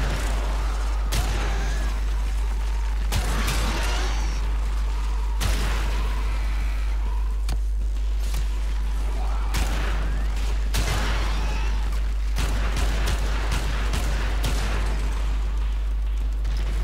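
Pyrana Prime shotgun fire in Warframe, repeated loud blasts at irregular intervals over a constant low hum and game ambience, with occasional voice lines in between.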